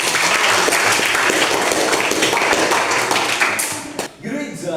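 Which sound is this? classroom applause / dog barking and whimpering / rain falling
classroom applause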